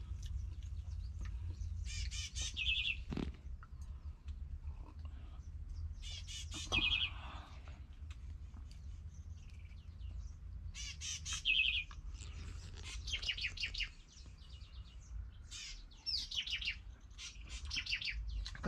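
Birds chirping and singing in the early morning outdoors in an African village, several calls scattered over a low steady background rumble, with occasional clucking fowl in the distance.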